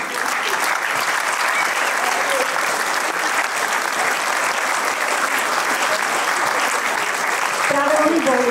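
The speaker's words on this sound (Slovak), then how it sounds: "tento potlesk by patrí zaslúžené" Sustained, dense clapping from an audience in the Snina cinema hall at a 65th-anniversary performance of the Vihorlat folk ensemble, steady and loud, with a voice rising over it near the end.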